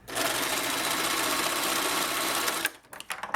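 A sewing machine stitches a sleeve in one fast, continuous whirring run that stops abruptly, followed by a few light clicks and handling sounds.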